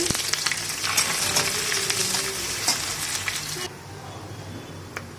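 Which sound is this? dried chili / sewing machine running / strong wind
dried chili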